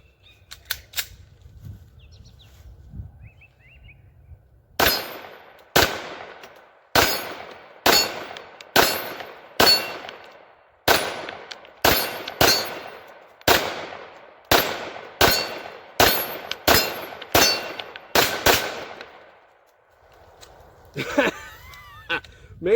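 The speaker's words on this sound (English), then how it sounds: "we're going to try 17 rounds of that Tula or the Red Army Standard steel case 115 grain" A 9mm Taurus TH9 pistol fires 115-grain Tula steel-case rounds at steel targets: about seventeen loud, sharp shots in a steady, slightly uneven rhythm, each with a ringing tail, after a brief quiet start.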